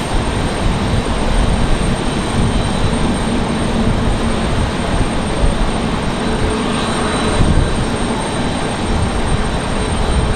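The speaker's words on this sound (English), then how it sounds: "This looks like an A321 coming in from Charlotte from American Airlines." An American Airlines Airbus A321 arriving from Charlotte and landing in gusty wind at Raleigh-Durham airport, heard as a steady broadband jet roar that holds at moderate distance and swells slightly near the end, with no voices.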